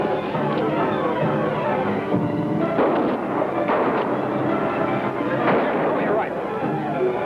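Gunfire in a western TV show: a noisy stretch of several sharp shots and bangs over background clamor, fairly loud, with voices talking between them.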